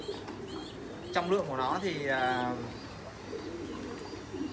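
An American giant pigeon, a very large breed weighing about a kilogram, coos in a short warbling burst close by, with someone talking over and around it.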